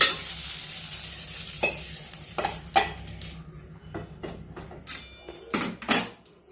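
Dried dates rattle and scrape in a dry pan as they are roasted and stirred, with repeated knocks and clatters of the spoon against the metal and a faint hiss underneath, close and without speech.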